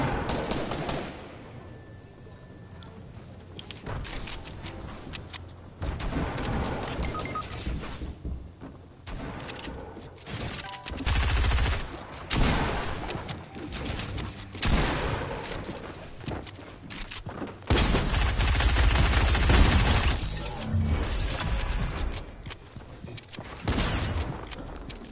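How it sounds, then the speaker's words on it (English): Video game gunfire in rapid bursts and sustained automatic fire, loud and dense with a few quieter gaps between volleys. "Stop shooting at me."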